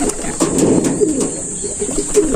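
A pigeon coos up close in soft, low, rolling notes, repeated several times in quick succession.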